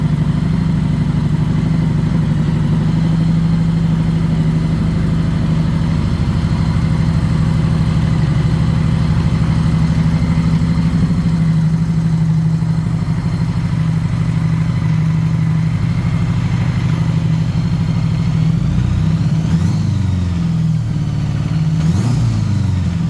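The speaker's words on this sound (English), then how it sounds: "I've actually never heard this motorcycle run." A low-mileage Honda Goldwing motorcycle engine runs after sitting unused for five years, idling with a steady, loud low hum and a few blips of revving near the end.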